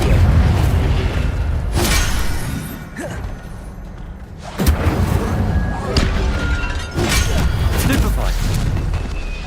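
The Incendio fire spell bursts in Hogwarts Legacy, with loud booming blasts and crackling impacts rising and falling over several seconds amid busy combat effects.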